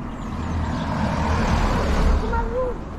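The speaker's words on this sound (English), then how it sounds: "Car coming, hold my hand." A car approaching and passing close by on a road near Saundersfoot beach, a rising and swelling engine and tyre rumble that peaks and then fades slightly, heard without talk over it.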